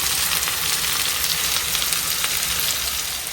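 Sliced bitter gourd (karela) fries in a pan with a continuous, close, loud crackling sizzle that holds steady throughout, with no talking.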